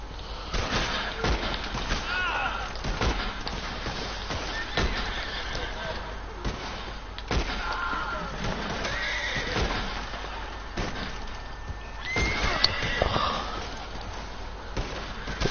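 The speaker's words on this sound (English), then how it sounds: "That my horse is about to die probably, yep." Horse neighing in the video game Red Dead Redemption 2, with whinnies, hoof clip-clops and thuds mixed into game sound while people talk throughout over it.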